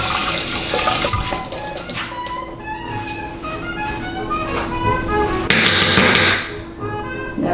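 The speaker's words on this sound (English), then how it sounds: "I rinse my eggs because I want to make sure there's no shell on there" Tap water runs steadily from a kitchen faucet as boiled eggs are rinsed in the sink, a continuous close splashing stream that swells louder near the end with a few light knocks.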